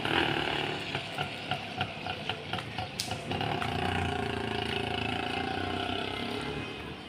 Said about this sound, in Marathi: पाऊस तर काही थांबायचं नाव घेत नाही आहे